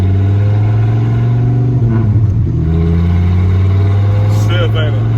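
A 1993 Dodge Viper RT/10 V10 idles with a deep, loud drone, then the engine rises briefly in a revving surge before settling back as the car pulls away, close and strong throughout.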